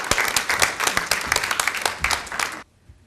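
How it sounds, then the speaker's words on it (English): A round of applause from an evening audience welcoming a speaker, dense and close, which stops abruptly just before the end, leaving quiet. "If we can all give her a warm round of applause"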